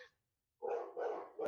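Dogs bark loudly nearby in three short bursts separated by brief pauses, with no talking.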